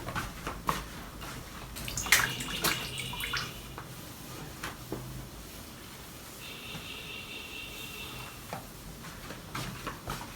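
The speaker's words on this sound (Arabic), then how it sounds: "هنغسل بس الرخام." Water runs steadily from a tap while a marble countertop is washed, with a soft continuous splash, a few clinks and knocks, and a brief higher hiss partway through.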